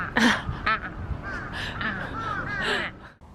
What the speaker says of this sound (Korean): 까마귀가 엄청 많았습니다.